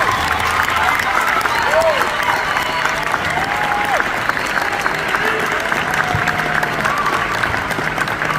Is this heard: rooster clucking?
no